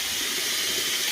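Water runs from a tap in a steady, close hiss, loud and unbroken, with no talking.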